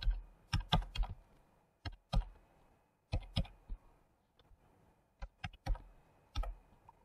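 Keys on a computer keyboard are tapped to enter a login ID, producing close, crisp clicks in small irregular clusters with short pauses between.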